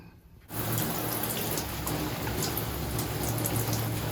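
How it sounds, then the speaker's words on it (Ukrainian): A shower head pours a steady stream of water over houseplants, washing their leaves, a close continuous splashing hiss that begins abruptly after a brief quiet moment and runs on evenly. "поливаю з душу"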